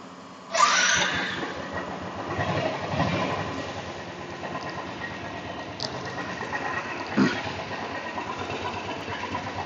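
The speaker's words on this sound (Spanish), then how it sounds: "es una moto que a pesar de ser 350 centímetros cúbicos, no es tan ruidosa" A Royal Enfield TBX350 350cc motorcycle engine starts and settles into a steady, fairly quiet idle, with a continuous even rumble and no talking.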